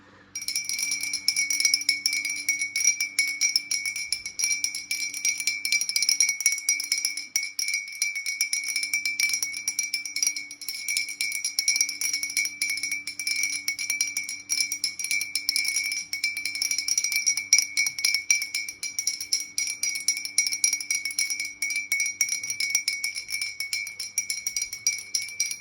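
An antique gnome bell rung repeatedly in a cleansing ritual: a bright, shimmering metallic ring with rapid tinkling strokes, sustained and close, continuing steadily without pause and with no talk.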